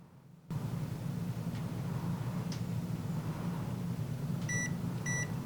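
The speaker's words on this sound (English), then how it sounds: "Once you hear that little beep or you see your countdown reach 0, that means you're done." A heat press finishing a sublimation pressing of a wind spinner gives two short, bright electronic beeps near the end, over a steady hum of machine and room noise.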